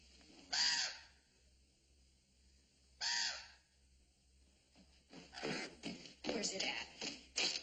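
Two loud, harsh caws from a crow ring out a couple of seconds apart over a quiet outdoor backdrop, followed by people talking in a western drama scene.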